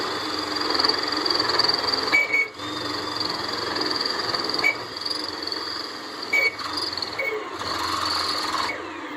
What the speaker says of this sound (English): so I guess you can watch me drill a hole